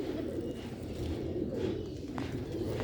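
A Sialkoti pigeon coos softly and repeatedly, low rolling calls close by over a faint background hum.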